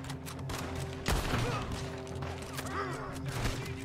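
Rifle fire in Red Dead Redemption 2: a sharp, loud shot cracks out near the one-second mark amid ongoing game ambience and scattered impacts, with further bangs later on.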